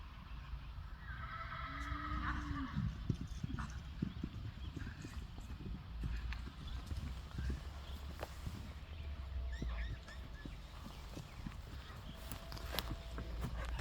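A horse runs across a field, its hoofbeats a steady, fairly distant clip-clop under wind and outdoor noise, with a short whinny near the start.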